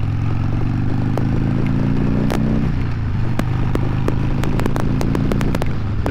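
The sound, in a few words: Sportster 883 motorcycle riding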